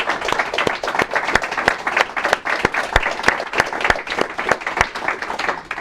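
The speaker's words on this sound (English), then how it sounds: "I wanted to make sure that everybody here gives Mark a big round of applause for doing this with us this year." An audience at a live show applauds, a modest crowd clapping close by with sharp individual claps standing out from a continuous patter for almost six seconds.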